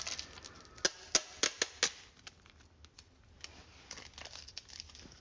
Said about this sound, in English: We got a protective film on here that needs to be removed.